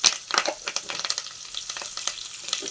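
Curry leaves crackle and sizzle in hot tempering oil for a Telugu drumstick dal, a dense spitting fry with quick pops and bursts spread across the clip, close and fairly loud with no talking.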